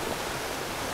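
A waterfall cascade in Lathkill Dale gives a steady, dense rush of falling water, close and loud with no break, and no voices.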